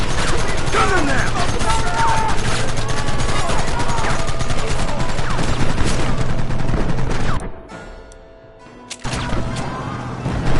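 Dense, loud gunfire in Red Dead Redemption Remastered: overlapping rifle shots and rapid bursts in a chaotic firefight, with shouting mixed in, then a brief near-silent drop before the shooting resumes.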